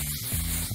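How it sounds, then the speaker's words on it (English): A quick hiss of dry texture hair spray, brief and close, over a low background hum. "I'm gonna do so by using a little bit of dry texture spray"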